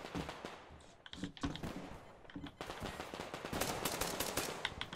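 Pistol fire in the shooter game Survarium: a rapid string of quiet, sharp shots cracking out in quick succession, denser toward the end, with no talk.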